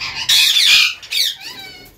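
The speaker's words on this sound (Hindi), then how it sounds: "ये बड़े वाले कोकटेल जो हैं" Cockatiels squawking at a bird market, loud harsh screeches repeating in quick bursts close by, with brief pauses between calls and no talking.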